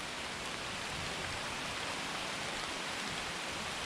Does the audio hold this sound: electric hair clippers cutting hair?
no